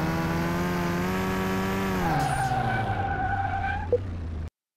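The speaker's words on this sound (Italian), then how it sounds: "test di frenata" Car Mechanic Simulator 2021 braking test: a steady engine drone drops in pitch as the car slows hard, with a rising tire squeal near the end before cutting to silence.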